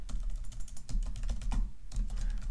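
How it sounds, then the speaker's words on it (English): Quick typing on a computer keyboard, a close run of light, rapid key clicks with brief pauses, fairly quiet. "I can switch this around and type in English, hello, Bob,"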